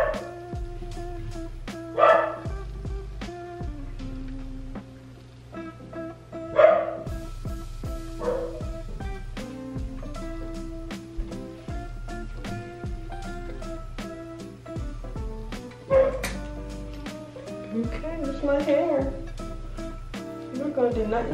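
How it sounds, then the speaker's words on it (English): A dog barks in a handful of scattered bursts inside a home, loud and close, with a person talking between and over the barks and steady background music running throughout. "that's my dog."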